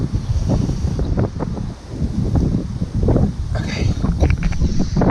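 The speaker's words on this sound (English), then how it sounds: "that wind's no joke." Strong outdoor wind buffets the microphone in a loud, continuous roar with gusty surges while someone runs outside, and a voice speaks briefly.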